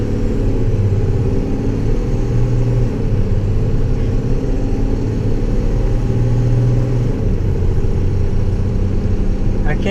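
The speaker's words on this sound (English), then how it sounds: "this has a lot more drivetrain noise, like tire and transmission whine" A Cummins-powered International Durastar truck drives along with a steady, loud drivetrain drone of tire and transmission whine over a low engine rumble, continuous throughout.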